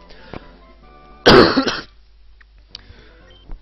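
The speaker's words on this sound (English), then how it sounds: "I'm still coughing now." One person coughs hard and clears the throat once, close and loud, with quiet game music faintly underneath before and after.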